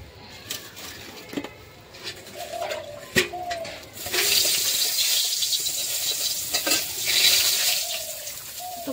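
Vegetables and potatoes for a fish curry hit a hot pan, and a steady broadband sizzle swells up midway and keeps going, with light stirring clinks and soft bird coos in the background.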